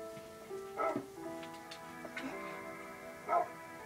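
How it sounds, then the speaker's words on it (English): A dog gives a few short barks and yips at moderate distance, three scattered bursts over a faint background of music and low noise. "Hey, shut up, dog."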